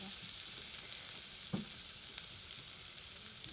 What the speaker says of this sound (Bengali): দেখো হলুদ গুঁড়ো দেওয়ার পরেই লঙ্কা গুঁড়োটা দিলাম আমি এবার এটাকে আরেকটু কষিয়ে দেবো